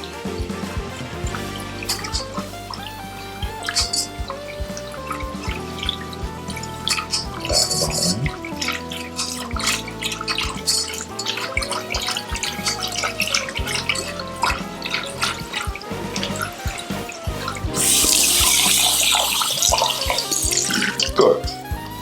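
Milk poured slowly into hot browned butter in a pan sizzles and crackles with bubbling, watery splashing, irregular pops, and a louder hiss surge near the end.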